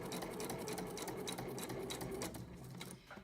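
A sewing machine stitches lace onto a fabric bookmark in a fast, continuous whirring rattle of needle strokes, close and clear, easing off at the end.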